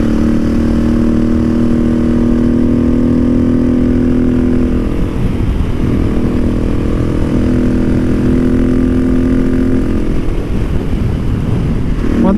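A motorcycle fitted with a Wings exhaust, Rade intake and PCV drones steadily and loudly while riding, its engine note rising and falling slightly with throttle changes amid constant wind rush.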